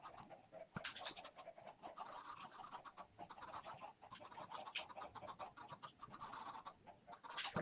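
Chickens in the game Minecraft cluck and chirp in short repeated calls, moderately near, over a faint steady background with no talking.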